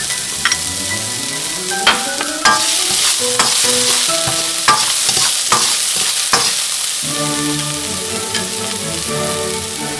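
Shallots frying in plenty of hot oil in a wok for egg fried rice, loud and close. A bright crackling sizzle runs under sharp, irregular clanks and scrapes of stirring, with no voices.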